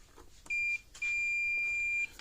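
Two electronic beeps from a multimeter testing a diode on a fence charger circuit board, a short tone followed by a longer sustained one, clear and steady against a quiet background.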